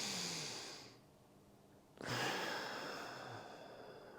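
A slow, deep diaphragm breath drawn in through the nose, a soft airy rush that fades into a brief hush before a second nasal inhale starts, close and quiet with no talking.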